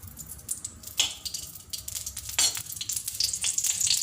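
Halwa ingredients fry in a spoonful of cow ghee in a hot wok over a gas flame, giving a crackling sizzle. Bursts of louder spattering and stirring come and go, up close.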